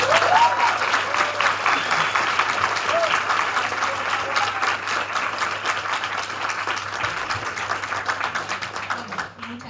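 An audience at a talk and debate gives a strong round of applause, dense continuous clapping that starts loud and gradually tapers over several seconds, with a few voices faintly underneath.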